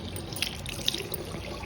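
Water is poured over a woman's swollen feet at home, giving a steady, close splashing and trickling wash with a couple of small drips.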